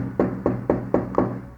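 Five sharp, evenly spaced knocks rap on a window, each a hollow thud with a short ring, in a creepy, dramatic telling.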